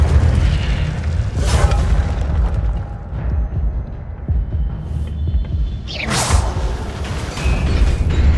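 The Incendio fire spell in Hogwarts Legacy sends out whooshing, booming bursts of flame over a rumbling game background, with one surge early and a stronger flare later, and no voices.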